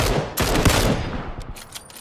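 Bursts of PUBG battle-royale gunfire, a loud close volley of rapid shots followed by a few sharper, more distant reports, with no talking.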